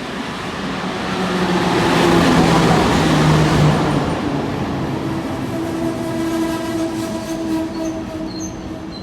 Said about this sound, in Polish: I zaraz odjedzie pociąg Intercity Morawia.